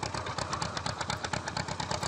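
A tractor engine in Farming Simulator 2013 idles with a rapid, even chugging pulse, close and steady throughout with no voices.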